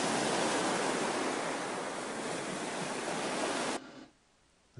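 Ocean surf washing in a steady broadband roar, loud and continuous, then dropping away abruptly near the end to near silence.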